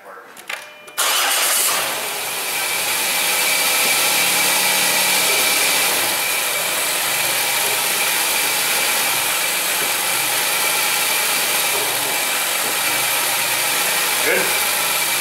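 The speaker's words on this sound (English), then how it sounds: "Go ahead and start it up, Hannah, run it through the gears" A Dodge Caravan or Chrysler Town & Country engine cranks briefly and catches, then settles into a steady idle that runs loud and close for the rest of the clip.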